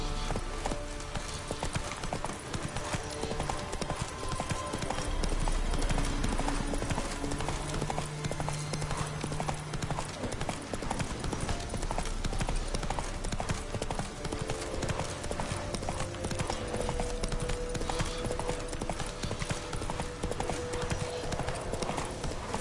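Horse hooves clip-clop steadily at a gallop in The Witcher 3 video game, a continuous close rhythmic pounding over a busy game soundscape, with an occasional faint whinny.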